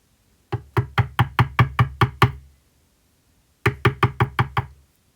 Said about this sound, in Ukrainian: Аж тут у двері хтось несміливо постукав.